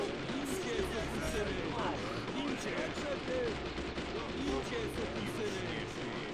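Video game gunfire crackles over dense rumbling battle noise, with bursts of shots blending into a constant loud din.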